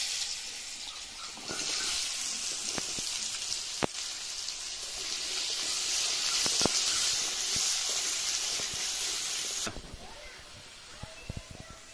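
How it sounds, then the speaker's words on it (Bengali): Pointed gourd (potol) fries in hot oil, giving off a continuous sizzle with scattered pops and spatters and a louder burst of hissing near the start, with a voice heard briefly. "এই পটল ভাজব।"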